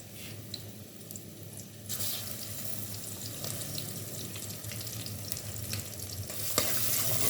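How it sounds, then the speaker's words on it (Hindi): Sliced onions going into hot oil, a close, steady frying sizzle with a watery hiss that swells when the onions drop in partway through, plus faint stirring clicks and no talk. "ये तेल गरम हो रहा है और इसी के साथ थोड़े से प्याज भी डालें।"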